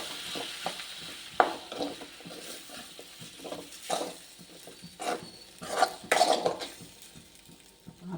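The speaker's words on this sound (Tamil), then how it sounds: "இந்த ஈரப்பதம் போகிறதெல்லாம் ரொம்ப சிம்மில் வச்சு நம்ம கிண்டி வச்சுக்கணும்" Sago is stirred in a pan over a low flame, with scattered scraping and clinking strokes of a spoon against the pan over a faint, gentle sizzle.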